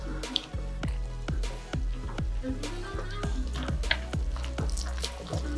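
Filtered water is poured into dough for Italian bread rolls, giving a close, steady series of wet drips and squishy splats at a fairly even rhythm, with no talking.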